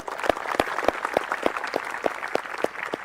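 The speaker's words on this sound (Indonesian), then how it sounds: "tepuk tangan kan." Rhythmic unison clapping from a group at a Badung regency flag-raising troop (paskibraka) parade ceremony in Bali, about ten evenly spaced beats in three seconds over a steady crowd background.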